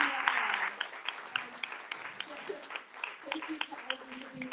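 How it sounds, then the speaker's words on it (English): Audience clapping for city council candidates at a public forum, a soft patter of many hands that rises and tapers, fairly quiet and distant with a voice speaking over it. "Let's give another round of applause to our candidates here."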